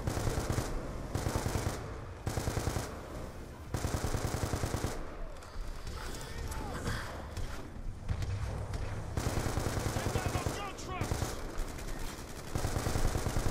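Enemy gunfire in Call of Duty Black Ops 2: repeated bursts of automatic fire crackle through a busy, dense battle mix, stopping briefly and then resuming.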